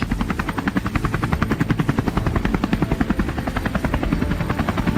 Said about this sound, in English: helicopter roared through the sky, tearing across the horizon in pursuit of the beasts below